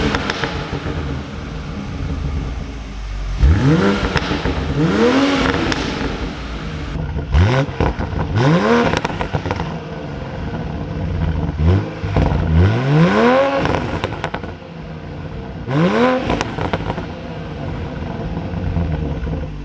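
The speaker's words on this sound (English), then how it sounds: "here's some clips of the new downpipe and how it sounded before and how it sounds now" A drift car with a new downpipe revs its exhaust in repeated sharp bursts, each rising and falling pitch sweep roaring loudly and close, about five revs spaced a few seconds apart over a constant engine drone.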